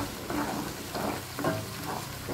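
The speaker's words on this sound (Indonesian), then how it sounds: "Lanjut kita aduk-aduk kembali teman-teman hingga tercampur dengan merata." Peanut sauce being stirred in a pan over reduced heat after blended peanuts are added, giving a steady soft sizzle with a few scraping stirs, close and without talk.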